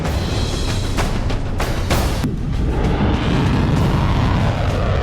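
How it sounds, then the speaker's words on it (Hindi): A dense rumble of distant booms over Israel at night during an Iranian missile attack, several broadband bursts in the first couple of seconds followed by a steady roaring low-frequency din. "इजराइल के आसमान में रात भर बारूदी धमाके होते रहे।"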